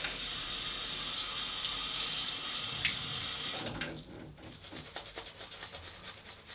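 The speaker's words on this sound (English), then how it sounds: "Add a bit of water." Water trickling onto a Salm Rock coticule sharpening stone, a steady hiss and splash that gives way to wet, soft rubbing and scraping sounds.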